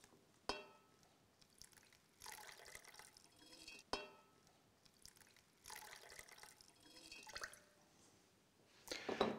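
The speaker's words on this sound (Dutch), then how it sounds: "En vul deze cilinder met ongeveer 5 centimeter." Water is poured into a glass cylinder vase holding an iris bouquet, filling it to about five centimetres; quiet splashing and trickling comes in a few separate bursts, near and soft, with a sharp clink of glass.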